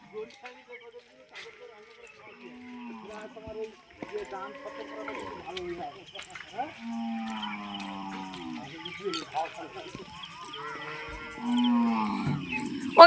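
Several long, drawn-out moos from a large, heavy cow rise and fall one after another, loud and close, with some background voices and bustle in between.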